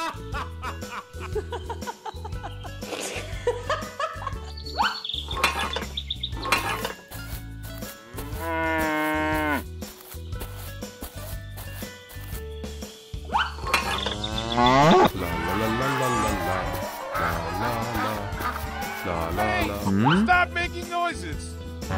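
Cartoon cow in a 3D animated farm comedy, moos rising and falling in drawn-out tones amid busy music, effects and chattering voices, with a buzzing insect-like whine mixed in.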